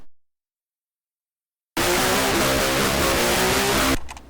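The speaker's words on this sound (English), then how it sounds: "And just the preamp by itself, without the cab emulation, sounds like this." Electric guitar through a Mercuriall JCM800 preamp plugin without cab emulation bursts in after silence as a loud, harsh, fizzy distorted chord that sustains for about two seconds, then cuts off abruptly.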